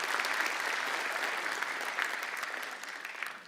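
A stand-up comedy audience breaks into dense, steady applause for film director Joko Anwar, a loud wash of many hands that holds for several seconds and eases slightly toward the end.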